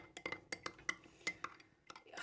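A spoon clinks and scrapes repeatedly against a glass while stirring a homemade drink, a quick run of faint, bright taps and light rattles up close in a quiet room.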